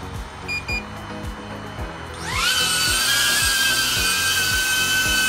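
A DJI Avata drone's motors start with a rising whine that quickly swells into a loud, steady high-pitched buzz as it lifts off, following a background of repeated rhythmic thumps.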